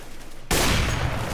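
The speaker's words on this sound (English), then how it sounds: "I just shot the guy in the leg and he died." Sudden burst of gunfire in a CS:GO deathmatch round, a dense loud volley that starts abruptly after a quiet lead-in and keeps rattling to the end.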